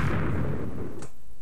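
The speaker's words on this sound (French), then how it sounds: "Oui, il y a des trucs qui explosent là." An explosion in a survival video game at nightfall, a heavy low rumbling boom that decays over about a second, loud and alone.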